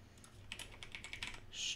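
Keys clack on a computer keyboard as a project name is entered, a quiet run of close taps with a brief louder burst near the end, no voices.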